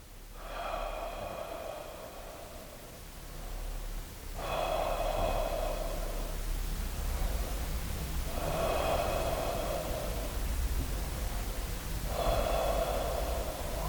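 Slow, deep breaths during a yoga stretch come in four long, audible cycles, each a close, airy inhale or exhale separated by quieter pauses, with no speech.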